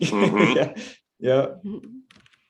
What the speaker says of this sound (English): Cat on a keyboard.